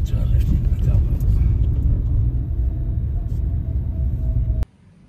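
A car rolling into a car park, a low steady rumble of engine and tyres heard from inside, with a voice talking over it before the sound cuts off abruptly near the end.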